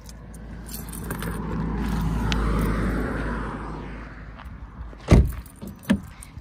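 A bunch of keys jangles during a walk at 7th & Elm Park, a steady outdoor rumble from nearby traffic underneath, then two sharp, close metallic clinks near the end.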